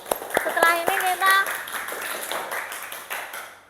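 A few scattered hand claps from a classroom of young students during an Indonesian lesson, uneven and brief, mixed with children's voices and chatter.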